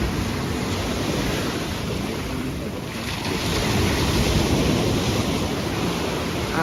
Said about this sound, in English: put our feet in the sand and let the waves hit our ankles